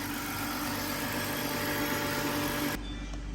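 A BMW E46 engine running smoothly at a steady idle, a constant close hum with a low drone, no talk, the sound changing abruptly near the end.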